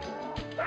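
A puppy in the 102 Dalmatians video game gives a short, high yip and whimper, faint and lasting well under a second.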